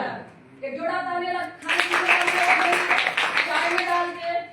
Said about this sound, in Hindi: एक जोड़ा तालियां